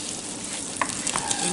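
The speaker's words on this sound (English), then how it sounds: "So I'm going to melt my butter" Butter for a rainbow mac and cheese melts in a pan with a brief, steady sizzle, close and bright, with no talking.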